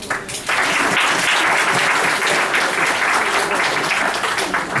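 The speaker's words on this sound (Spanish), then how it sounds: "Aplausos, por favor." Audience applause at an international conference on digital repositories, a dense, steady burst of many hands clapping that starts abruptly and holds loud for several seconds.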